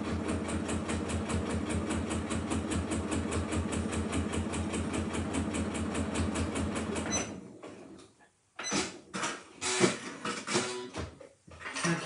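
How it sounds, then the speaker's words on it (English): A sewing machine stitches along a marked line on fabric for a coin purse, running a fast, even mechanical chatter for about seven seconds, then stops, leaving a few faint handling noises. "I'm just going to sew along this blue line."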